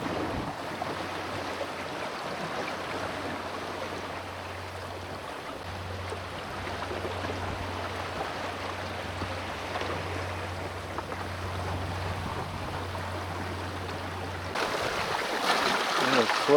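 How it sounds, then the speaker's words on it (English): Ocean swells of three to four feet wash around a KaaNoo kayak, a soft, steady rush of water and wind noise with a low hum underneath that cuts out near the end as the splashing swells louder. "And we got some pretty good swells going now."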